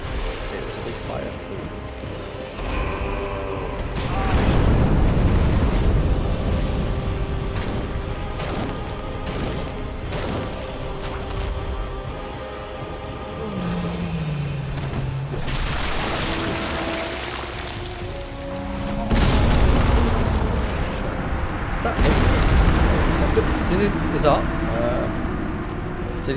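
A Dark Souls boss fight with a heavy slam attack and a big burst of fire, giving booming impacts and roaring blasts over game clutter while a player talks throughout.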